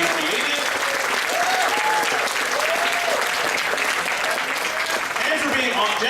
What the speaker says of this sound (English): we need you guys to give them all a warm round of applause right now for being brave